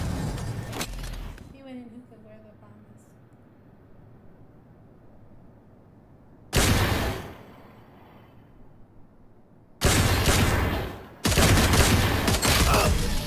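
Bursts of gunfire from the video game Valorant, loud broadband blasts around six-to-seven seconds and again from ten seconds on, separated by quieter stretches with faint in-game voices.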